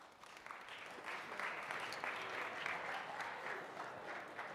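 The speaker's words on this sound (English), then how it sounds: "Applause." Steady applause from a tech conference audience as two speakers walk onto the stage, a dense even wash of clapping held at a distance for several seconds with no talk over it.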